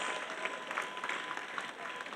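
A church congregation claps as an offering to Jesus Christ during a revival service, steady soft applause continuing throughout at a moderate distance.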